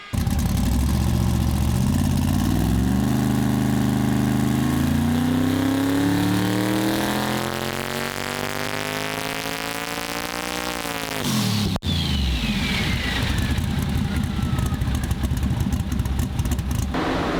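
A race car engine on a dyno revs hard under boost, its loud sweeping pitch climbing steadily as RPM builds toward about 7,000, cutting off abruptly near the end before a rougher, lower-pitched run resumes alone.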